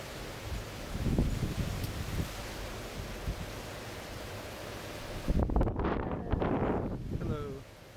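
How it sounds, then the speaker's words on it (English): Wind blows outside, buffeting the microphone in uneven gusts with rustling noise. A stronger burst of gusting comes near the end, and voices are faintly present. "It's pretty windy today."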